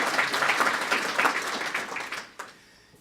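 Conference audience at the 2011 UN Global Compact Conference claps steadily for about two seconds, then the applause tapers off quickly into near silence.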